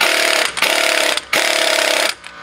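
A power tool runs the front wheel hub nut tight on a Jeep Dana 30 axle, three loud, close hammering bursts broken by brief pauses, the last one trailing off.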